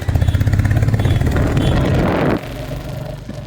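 A new motorcycle's engine putters in a rapid, loud, pulsing idle up close, then revs into a smoother drone before dropping off abruptly to a lower, quieter hum.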